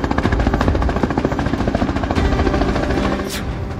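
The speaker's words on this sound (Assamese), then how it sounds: "আকাশ মার্গত এখন হেলিকপ্টাৰ এই হেলিকপ্টাৰখন এখন পথাৰৰ দিশে ক্ৰমান্বয়ে আগবাঢ়ি আহিছে" A helicopter flies toward a field, its rotor making a loud, steady rapid thudding chop that fills the whole stretch with no voices.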